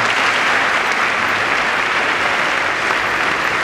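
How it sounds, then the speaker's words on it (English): Members of Congress at the 2017 presidential joint address give loud, sustained applause for a Navy senior chief petty officer's widow, a thick unbroken roar of many clapping hands filling the large chamber. "sustained applause for her"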